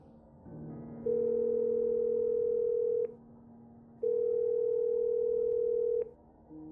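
A telephone call to a mother rings out as two long, steady electronic tones, each about two seconds, separated by a one-second pause, clear and alone.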